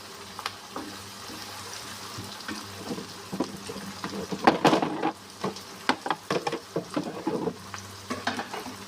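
Chicken with bean seeds fries in oil in a pan, a low steady sizzle broken by a burst of sputtering and then a run of rhythmic scraping stirs, close and with no talking.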